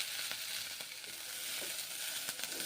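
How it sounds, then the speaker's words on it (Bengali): Beans frying with ginger paste in a pan give off a steady, fairly faint sizzling hiss with occasional soft stirring scrapes, close up and without speech. "আদা বাটা দিয়ে বিনসগুলো ভেজে নিচ্ছি"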